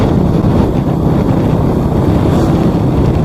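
Motorcycle engine rumble mixed with heavy wind buffeting, recorded without an external mic while riding from Sumber, Cirebon toward a village; a loud, steady, continuous roar with no talk.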